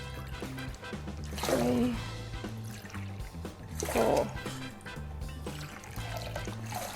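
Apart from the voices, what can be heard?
water being poured into a pot, five cups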